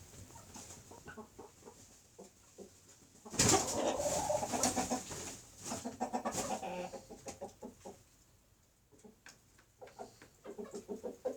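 A backyard flock of twelve hens and three roosters clucks and murmurs nearby in irregular bursts, with a louder flurry of squawking and flapping in the middle before the soft clucking returns.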